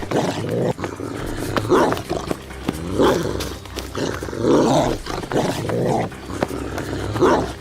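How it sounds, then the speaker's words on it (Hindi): A dog growls and snarls while chasing someone in an animated Hindi story, a loud, rough, continuous growl with roar-like swells and no pauses. "अरे ये कुत्ता तो फिर से मेरे पीछे पड़ गया।"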